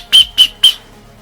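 Three short, sharp blasts on a small whistle built into a Forclaz backpack strap, loud, close and evenly spaced, followed by quiet.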